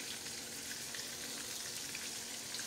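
Shrimp fry in a pan with a steady, dense sizzle and crackle, faint and even throughout with tiny pops scattered across it.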